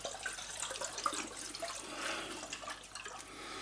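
Perry wine being swirled inside a vessel fitted with a bung and airlock gives a continuous close sloshing and gurgling of liquid, steady throughout with no talking.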